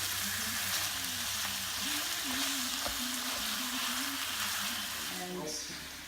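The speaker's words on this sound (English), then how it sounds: "The onions, we're just frying them for a short while." Onions frying in a pan for stuffed cabbage rolls, a steady bright sizzle close up throughout, with faint voices murmuring beneath it.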